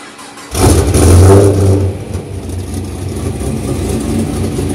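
Modified Camaro SS V8 with heads, cam, custom stage 3 cam, X pipes, high-flow cats and long tube headers blips loudly into a hard rev after a short silent gap, then settles into a rumbling, lopey idle nearby.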